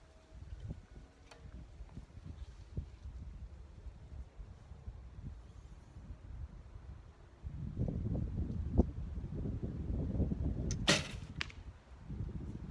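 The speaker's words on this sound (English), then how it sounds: "It's a little bit more windy than I'd like" Gusty wind buffets an outdoor microphone during bare shaft arrow tuning, a steady low rumble that swells louder partway through, with a few faint arrow impacts earlier on.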